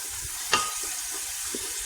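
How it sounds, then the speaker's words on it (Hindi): Potatoes and peas frying in a pan for aloo matar curry, a steady close sizzle with a brief stirring scrape partway through. "आलू और मटर अब हम इसमें थोड़े से भूनेंगे"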